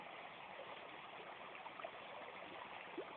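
A river in Banten flows steadily, a soft continuous rush of running water with faint gurgles, heard alone at low level.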